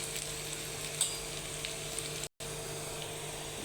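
Garlic cloves and five-spice seeds frying in hot oil as a tempering for dal, a steady close crackling sizzle with one brief dropout partway through.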